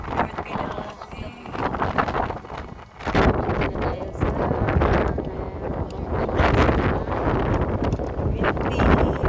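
Strong gusty wind buffets the microphone on the open upper deck of an H1 sightseeing bus in Hong Kong, a loud rushing roar rising and falling as people talk over it.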